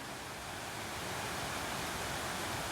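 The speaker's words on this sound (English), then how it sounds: "came across another waterfall, another beautiful spot in the way to paradise" A waterfall along the Road to Hana on Maui roars as a steady, dense broadband rush with no breaks, close and loud, with no voices over it.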